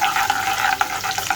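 Finely chopped garlic, ginger and green chillies fry in oil, a close, bright sizzle broken by a few stirring scrapes.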